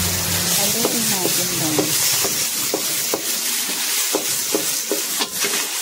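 Fried rice with mixed vegetables stirred in a sizzling pan: steady frying hiss with repeated scraping, clinking strokes of a spatula against metal, while someone speaks briefly.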